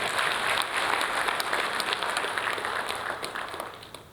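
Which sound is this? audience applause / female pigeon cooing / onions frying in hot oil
audience applause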